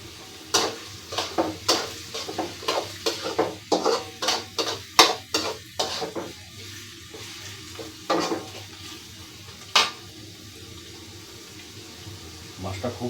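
Onions fry in a pan with salt while being stirred, a quiet sizzle beneath a repeated rhythm of spoon scrapes and knocks against the pan, close by, and a voice speaks over it.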